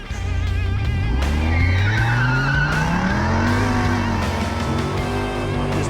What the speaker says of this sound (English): And get those tires spinning fast